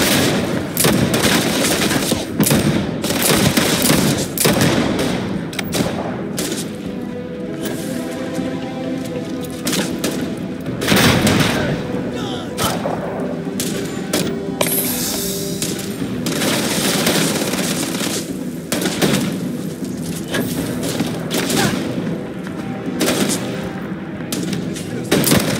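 Sustained gunfire in the sci-fi video game Starfield, dense rapid bursts and single shots with loud impacts over a continuous battle soundscape, with shouted voices mixed in.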